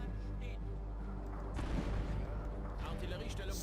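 Gunfire and artillery in a WWII video game, booming blasts and rolling impacts over a constant low rumble, close and heavy, with a voice talking over it.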